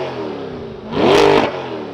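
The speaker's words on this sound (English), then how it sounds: "it does sound really good, especially with this convertible top. So let's listen to it from the outside." A 2021 Chevrolet C8 Corvette Convertible is heard from outside as its exhaust idles and then rises in one sharp rev before settling back down, loud and close.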